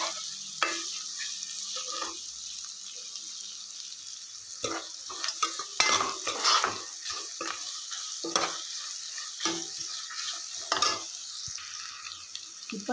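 Onion and green chilies sizzle in a frying pan for murungai keerai sambar, while a spoon scrapes and stirs in irregular bursts, close and steady throughout.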